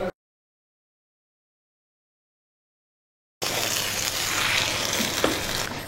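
After several seconds of silence, a pot of sabudana and semiya payasam simmers and bubbles steadily, a dense continuous sizzling hiss with a faint clink near the end.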